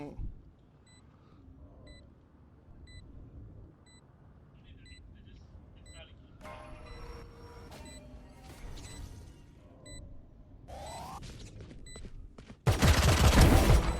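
Bursts of gunfire from a Valorant-style tactical shooter match, with rapid shots and electronic beeps from a planted spike, ending in a loud, dense burst, while players chatter excitedly over the action.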